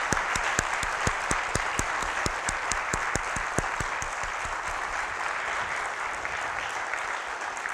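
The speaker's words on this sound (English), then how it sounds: "I will lift my ban on applause to thank the candidates" Audience applause for mayoral candidates at a forum in a high school, steady dense clapping from a room of people that holds even before fading slightly toward the end.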